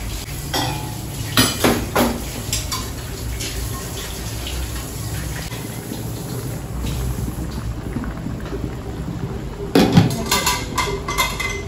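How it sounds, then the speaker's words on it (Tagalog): Dishes being washed at a sink, with plates and cutlery clattering and clinking in bursts over running water, close and fairly loud throughout. "maghugas muna ako ng pinggan."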